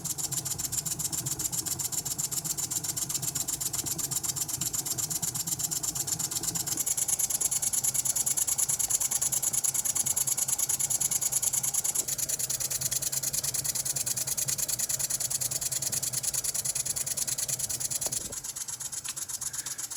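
A small ENJOMOR live steam engine kit from Enginediyshop, fired by methylated spirits and fitted with a drive pulley, runs steadily and close by, giving a continuous rapid mechanical chuffing and whirring with slight shifts in pace.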